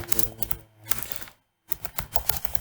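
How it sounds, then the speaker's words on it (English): Rapid, close keyboard typing while Java code is written, a dense clatter of keystrokes that briefly stops for a moment of silence before resuming. "first let me type and then I'll talk"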